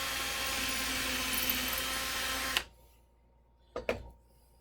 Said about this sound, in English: So I'm going to drill this part way in.